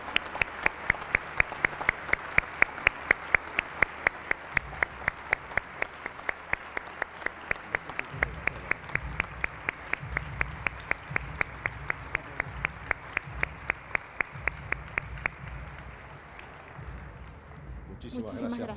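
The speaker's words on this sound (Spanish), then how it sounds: "Les pido que se paren, por favor, y que les podamos dar un aplauso a ellos y al staff" A large seated audience at an Argentine sustainability colloquium gives sustained applause for the organizing committee and staff, steady rhythmic clapping that thins out near the end.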